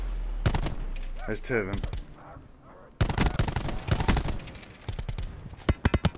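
Rapid bursts of video game gunfire crack out in close, loud volleys, with a pause in the middle and then fresh clusters of sharp shots, while someone talks briefly over the shooting.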